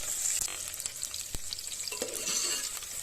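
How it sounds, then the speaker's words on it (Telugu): Mustard seeds, chopped green chillies, onion pieces and curry leaves sizzling in hot oil in a bowl, a steady close crackle broken by a few sharp stirring clinks. "ఇప్పుడు తాలింపు కోసం ఒక గిన్నెలో ఆయిల్ వేసి వేడి చేసుకొని కొంచెం తాలింపు గింజలు వేసుకోవాలి"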